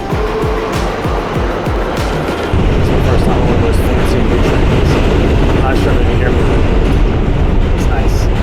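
A New York City subway train in Manhattan rumbles along loudly with rhythmic clacking at first, then settles into a steady roaring drone as it picks up speed, heard from inside.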